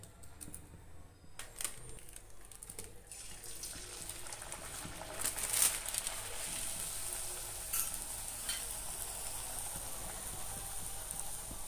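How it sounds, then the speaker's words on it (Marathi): A potato puri for Navratri fasting fries in hot oil while being pressed down with a spoon, making a continuous close sizzle with occasional louder bursts and light scraping. "पुरी टाकली मी तेलामध्ये त्याला अल्लाद त्याला अल्ला चमच्याच्या साह्याने दाबून घ्यायचं"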